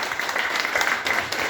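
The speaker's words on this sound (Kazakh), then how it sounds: "шапалақтап қойыңыздар" An audience at a 45-year class reunion claps for a short stretch. The clapping is steady and moderately loud, with no voices.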